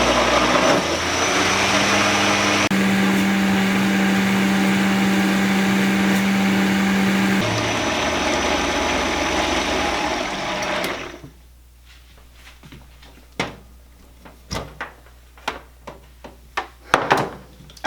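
Blender whirring steadily as it mixes a frozen strawberry kiwi smoothie, a loud continuous drone for about ten seconds, then the motor stops and scattered clicks and knocks follow.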